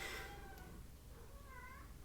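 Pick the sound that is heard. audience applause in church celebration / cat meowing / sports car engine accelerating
cat meowing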